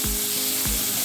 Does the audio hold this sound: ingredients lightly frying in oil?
yes